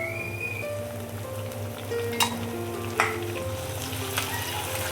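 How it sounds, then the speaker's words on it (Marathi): Curry leaves crackle and sizzle in hot oil with ginger-garlic paste for a hotel-style paneer veg pulao, a steady frying hiss with a low hum beneath and a few sharp pops standing out. "आता ह्यामध्ये मी आता कढीपत्ता टाकत आहे।"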